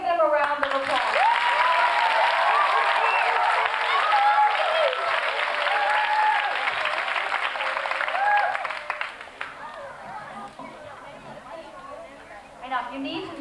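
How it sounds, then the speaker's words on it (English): School anniversary audience applauding the winning school song, sustained clapping mixed with scattered cheers and chatter, fading to lighter, sparser claps and murmuring voices toward the end. "Let's give them a round of applause."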